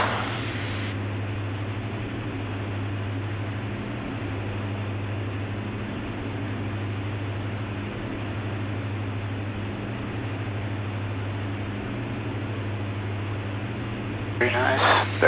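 Steady low engine drone of a 2006 Diamond DA-42NG twin-engine propeller airplane in flight, constant and moderately loud throughout, with a brief burst of noise near the end.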